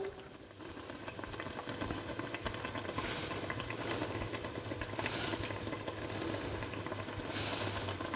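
Batch of about eight donuts from Bakels donut mix deep-frying in hot oil, a steady dense sizzle and bubbling that holds evenly throughout, close and moderately loud with no talking.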